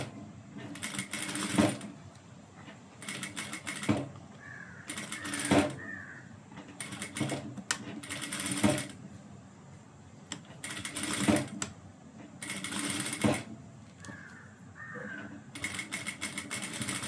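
A sewing machine stitches gathered pleats in repeated short bursts of rapid mechanical chatter separated by brief pauses, moderately loud and close, with no talking.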